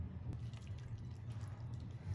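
Water added little by little to chicken nugget batter, a soft, faint trickle and drip over a low steady room hum, short and quiet with no voices.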